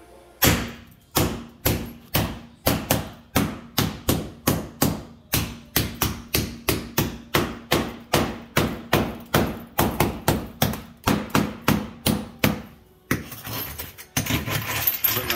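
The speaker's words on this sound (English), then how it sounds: "we have to use a small masonry chisel and a hammer" Hammer blows on a small masonry chisel break up ceramic tile, a steady run of sharp, loud, closely spaced strikes, about two per second, ending in a brief scraping rustle.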